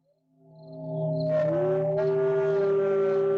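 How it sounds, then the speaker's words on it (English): Wolves howling, long rising and sustained tonal wails that swell in from quiet and overlap as a second voice joins, carrying loud and clear. "I think that's real wolves."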